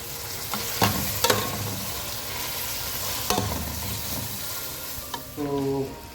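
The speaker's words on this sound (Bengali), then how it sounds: "এখন পেঁয়াজটা যতক্ষণ না ব্রাউন হচ্ছে ততক্ষণ আমি নিয়ে যাবো।" Onions frying in a pan on an electric stove, loud crackling sizzle with repeated clanks and scrapes of a spoon against the pan, no voices.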